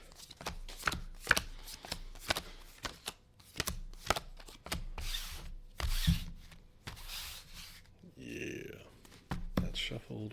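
Deck of cards for a tabletop game being shuffled with rapid, irregular riffles and snapping clicks, close up, in repeated bursts, while a person talks over parts of it.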